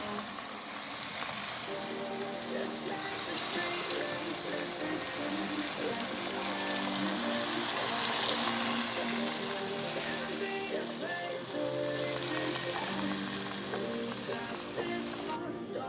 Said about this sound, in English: Now I'm going to put my chicken stock, yes, broth.